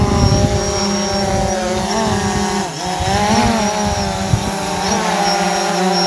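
A drone hovers as it comes down to land at a safe spot, its propellers giving a steady, loud, close buzzing whine that wavers slightly in pitch throughout.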